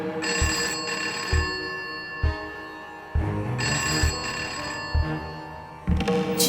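A telephone rings in a home setting, with loud repeated electronic bell trills in regular bursts separated by short pauses, clear and close with no talk over it.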